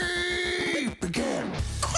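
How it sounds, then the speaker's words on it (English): A cartoon baby in an animated short film gives a couple of raspy, throaty coughs, close and fairly loud, with voiced tonal sounds and a brief drop near the middle. "Coughing baby!"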